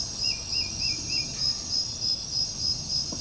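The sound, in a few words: crickets chirping in the forest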